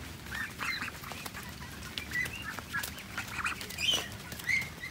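Ducks kept in a pomelo orchard to eat snails, with scattered quacks and calls over a steady outdoor murmur and faint rustling, fairly close but not loud.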